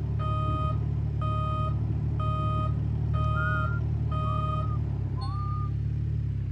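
Reversing buzzer on a gold mining driller, six evenly spaced beeps close by over a steady low engine rumble, the last one shorter, with no talk.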